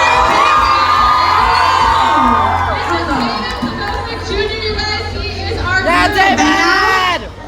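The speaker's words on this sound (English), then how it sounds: "So can I get a giant round of applause for my bride and groom, everybody?" Crowd at a convention event cheering, whooping and shouting for a mock bride and groom, loud and close, with excited voices and children's shrieks rising and falling over a dense roar of applause and chatter.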